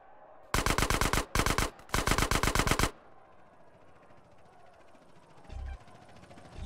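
Automatic gunfire in GTA San Andreas, with three loud rapid bursts close together followed by quieter game ambience and a low thud near the end.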